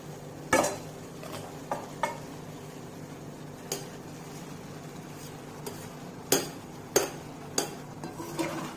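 A spoon stirs lemon coriander rice in a pan, giving scattered sharp clinks and scrapes against the metal at irregular intervals over a faint, steady sizzle.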